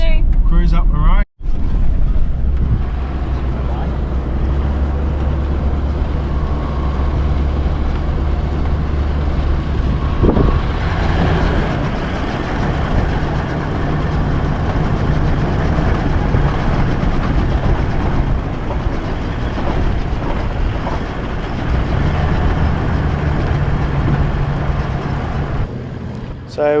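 A car towing a van cruises slowly up the Gibb River Road toward King Edward Campground, its engine a loud, steady low drone with road rumble, and a voice speaks over it at times.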